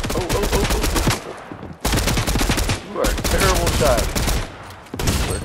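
Rapid gunfire in a Fortnite match, dense bursts of close, loud shots in three strings separated by brief pauses, with a voice briefly heard between them.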